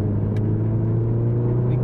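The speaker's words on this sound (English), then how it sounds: "we'd come out in the only sensible car for such weather, the MX5." A Mazda MX5 drives through snow in the very cold Brecon Beacons, its engine a steady, close, low droning rumble that holds evenly throughout.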